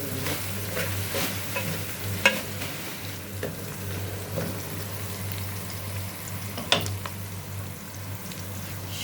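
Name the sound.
onions frying in a pan with salt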